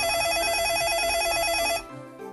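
A VoIP phone rings through a 4-channel VoIP gateway, giving a loud, rapid warbling electronic ring that trills steadily for nearly two seconds and then stops abruptly.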